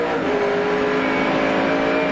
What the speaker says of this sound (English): Not only that, you can hear the gear changes,